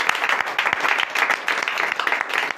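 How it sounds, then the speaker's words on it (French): Applause and acclamation from a church congregation at a night prophetic prayer service in Comè, Benin: dense, steady clapping mixed with cheering voices, loud and sustained throughout with no speech over it. "Donnez de vive acclamation à notre Seigneur Jésus."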